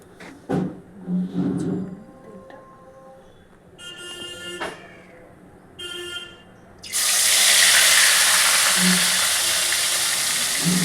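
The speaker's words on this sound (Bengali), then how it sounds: "এবার মাছটা আমি আগে ভেজে নিচ্ছি ভালো করে" Mourala fish frying in hot oil in a kadai, starting after some scattered clatter and kitchen noise and then becoming a loud, steady, close hiss that carries on to the end.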